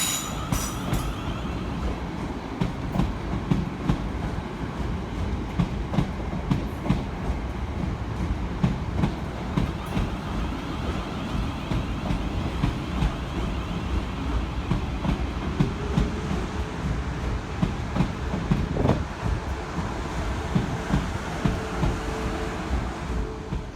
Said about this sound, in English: Departing over on the far side is 450-097 and 450-112, working the 1554 South Western Railway service from Weybridge through to Kew Bridge.